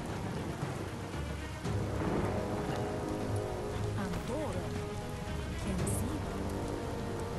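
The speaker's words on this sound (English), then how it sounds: "Uh-oh. It's raining." Rain falls steadily on surfaces in the video game Biomutant, a continuous hiss with faint tonal game sounds and effects mixed in, quiet overall.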